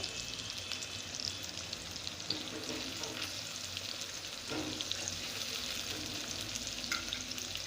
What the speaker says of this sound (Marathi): टोमॅटो छान असा परतवून घ्यायचा आहे